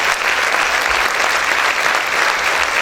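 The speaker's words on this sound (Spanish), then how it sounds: "Vamos a aplaudir fuerte a nuestro Rey." Loud, dense applause from a church congregation, continuous and steady for the whole stretch with no break or spoken voice.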